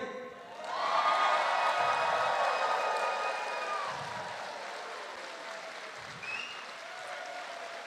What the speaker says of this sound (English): On three, you're going to stand up. Everybody cheer.